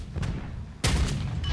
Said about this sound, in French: D'après ce que j'ai entendu au niveau du canon, c'était peut-être du 120.